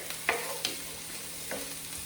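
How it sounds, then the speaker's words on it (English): Onions sizzle in hot oil in a pan, a steady crackling hiss with a few scraping stirs, close and moderately loud. "you're gonna hear that little bit of sizzle"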